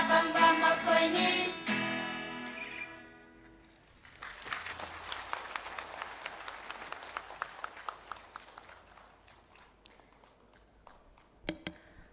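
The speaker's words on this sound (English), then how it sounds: "Once again, a big round of applause for the talented children of Karmal Jyoti Koiringai" Applause from an audience after a children's performance at a public campaign event, a loud burst of clapping that fades, then a fresh wave of many scattered hand claps rising and gradually thinning out.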